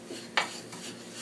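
Black sesame seeds being stirred with sticky syrup for Korean gangjeong make a soft scraping in a bowl or pan, with one sharp utensil clink against the side partway through, close and quiet.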